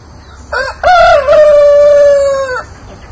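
A blue barred rock rooster in a backyard flock crows once, loud and close, a long drawn-out call after a brief lead-in note, with no talking over it.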